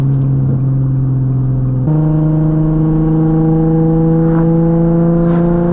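A Nissan 370Z V6 with a Tomei exhaust drones loud and close while driving, holding a steady low hum that jumps to a new pitch after a gear change and then keeps climbing.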